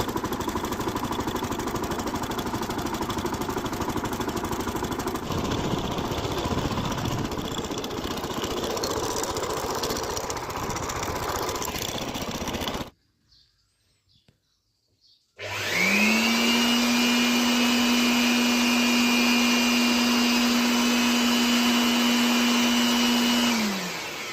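A tractor engine runs steadily while sowing a groundnut field with DAP fertilizer, a loud continuous mechanical drone that cuts out briefly, then returns with a strong steady tone.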